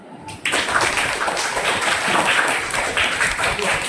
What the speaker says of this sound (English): Okay, please clap.